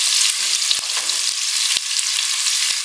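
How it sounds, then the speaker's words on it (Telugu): Chopped onions and cumin fry in a pan for chicken pulao, giving a continuous bright sizzle with a few sharp spatula knocks against the pan, close and fairly loud, and no one speaking. "ఈ ఆనియన్స్ ముక్కలు మంచిగా కలర్ చేంజ్ అయ్యే వరకు మనం ఫ్రై చేసుకుందాం."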